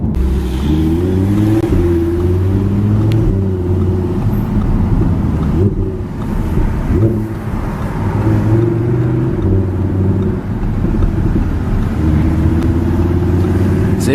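A 2015 Audi R8 V10 Plus accelerating hard, its V10 engine climbing through rising revs in a loud, close roar, dipping briefly between gears before pulling up again.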